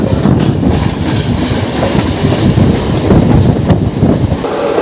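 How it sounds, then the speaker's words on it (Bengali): A Howrah–Panskura local train overtakes on the adjacent line, its wheels giving a loud, close, continuous rumble and clickety-clack throughout. "overtake Howrah Panskura local"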